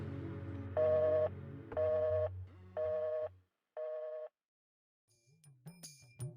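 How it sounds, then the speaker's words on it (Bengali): A telephone rings in four evenly spaced electronic bursts, fairly close and clear over a low hum, then goes silent before faint rustling and handling noises follow. "কি ব্যাপার আইনাল ভাই এতবার ফোন দিচ্ছ"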